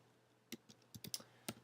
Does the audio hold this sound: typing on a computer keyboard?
yes